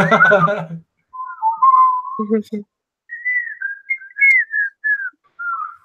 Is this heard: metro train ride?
no